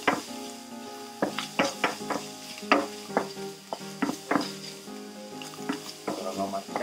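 Reindeer stew meat frying in fat in a pot for a Finnish poronkäristys, a close steady sizzle broken by regular scraping stirs of a utensil against the pot, with no talking.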